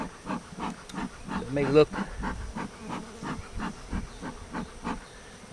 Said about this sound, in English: I'm giving them a lot of smoke because I want them down.